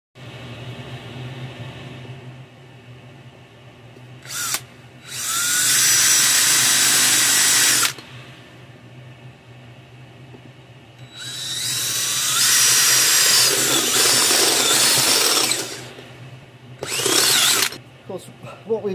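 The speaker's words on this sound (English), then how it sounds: "then I can drill a hole through" A power drill bores a hole through an annealed cup for a live steam boiler filler, in several loud whining bursts, one brief and the others lasting a few seconds each, separated by quiet pauses.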